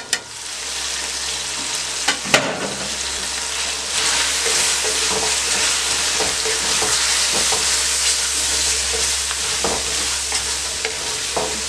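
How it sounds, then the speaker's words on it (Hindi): Green chillies and spices fry for anda biryani, a steady loud sizzle running throughout with stirring clatter and a few sharp utensil knocks near the start. "चंद सेकंड के लिए फ्राई करें"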